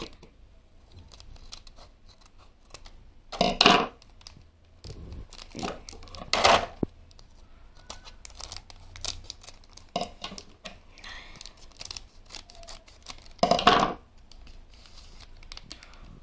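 Scissors cut open a Taiwanese Prism Stone random packet, giving a few short, sharp snips spaced apart amid quiet rustling and handling noise.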